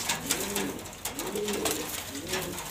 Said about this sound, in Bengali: এই দুইটা কবুতর দেখতে পারতেছেন